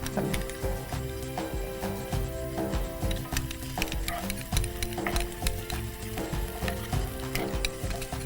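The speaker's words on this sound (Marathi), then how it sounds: "आता ह्याच्यात तुम्हाला लाल चिली पेस्ट घाल ती पण सगळी घाल" Red chili paste goes into a pan of frying green chilies, producing a close crackling sizzle broken by frequent clinks and scrapes of a spoon as the mixture is stirred.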